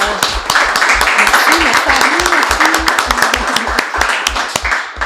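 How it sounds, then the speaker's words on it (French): Audience in Gatineau applauding mayor Maude Marquis-Bissonnette at a youth event, steady dense clapping throughout with sharp individual claps standing out and a voice or cheer rising briefly beneath. "J'aimerais vraiment qu'on acclame Maude Marquis-Bissonnette pour..."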